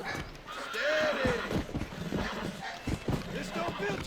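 In the video game Red Dead Redemption, a horse whinnies in short rising cries amid hoof clip-clops, while someone talks over the game sounds.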